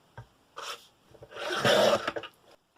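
Paper run through a Tim Holtz rotary media trimmer by Tonic Studios, a couple of short rasping slides as the blade rolls along, the second one longer and louder, close and clear with no talk.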